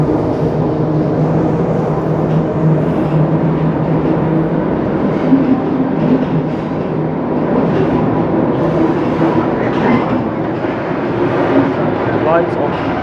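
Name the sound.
heritage train F1 moving, heard on board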